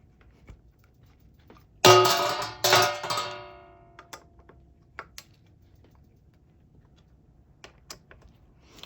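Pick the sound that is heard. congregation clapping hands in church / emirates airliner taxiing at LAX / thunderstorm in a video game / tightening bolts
tightening bolts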